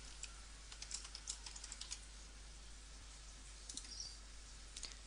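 Quick, uneven bursts of typing on a computer keyboard while working on a Minitab chart, light clicks coming in clusters with short pauses, close and fairly quiet with no speech.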